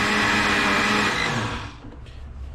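Blender pureeing crock pot tomato soup, a loud steady whirring motor that runs alone, then drops off sharply near the end as it winds down.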